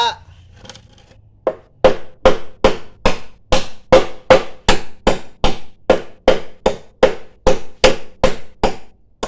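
Sharp, evenly spaced knocks of a hand tool striking bamboo to make holes repeat about twenty times in a steady rhythm, close and loud.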